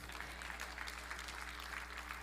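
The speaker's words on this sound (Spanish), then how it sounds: "Un aplauso" A church congregation breaks into applause during a sermon, a short, fairly faint patter of many hands clapping over a steady low hum.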